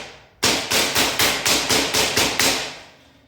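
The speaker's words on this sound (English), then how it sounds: "notice how I'm using hammer to put it inside." A hammer strikes a steel shelving rod on a boltless heavy-duty steel shelving unit, driving it into place with about eight sharp, evenly spaced blows close by.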